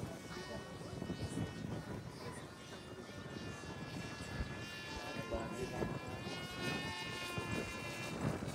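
Model airplane engine droning steadily overhead at a fun fly gathering, a continuous buzzing whine that rises and falls slightly as it passes, with people chatting nearby.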